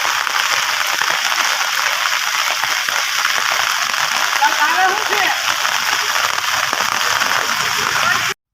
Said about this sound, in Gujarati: ધોધમાર વરસાદને કારણે ગામમાં પાણી ઘૂસી ગયા છે